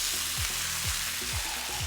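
Finely chopped garlic and chipotle sizzle steadily in a hot frying pan, a close, even crackle with periodic scraping strokes from stirring.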